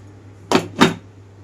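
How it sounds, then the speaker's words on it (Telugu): Two quick clunks of a lid settling onto a cooking pot, close and crisp, over a low steady hum. "మూత పెట్టేస్తున్నాను ఇప్పుడు"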